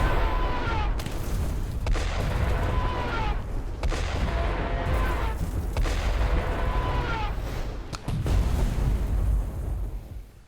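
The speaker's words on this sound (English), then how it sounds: "And now they're sending in more missiles." Incoming missile and artillery fire in the war strategy game Burden of Command: a series of heavy booms and blasts recurring about every two seconds over a dense, continuous rumble, loud and close throughout.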